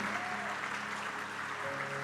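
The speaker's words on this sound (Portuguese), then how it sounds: "Pode aplaudir o Senhor, Ele é digno." A church congregation breaks into sustained applause, a thick, even roar of clapping hands with held keyboard or organ notes ringing underneath.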